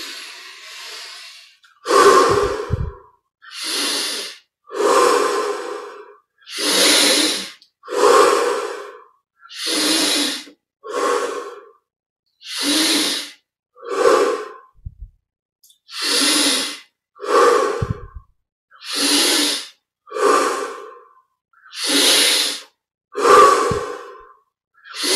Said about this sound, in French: On augmente progressivement l'amplitude de chaque respiration.